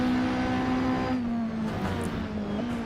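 Several racing cars in a racing video game drone steadily with a sustained engine tone that shifts slightly in pitch, fairly loud and continuous with no one speaking.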